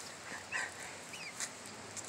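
A dog whimpers softly in short, high whines, nearby over a steady background hiss.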